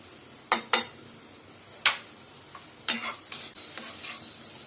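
A spoon stirs banana filling with white sugar and cardamom powder in a pan for Kerala-style pazham nirachathu, several sharp scraping knocks against the pan over a soft sizzle, close by with no voices.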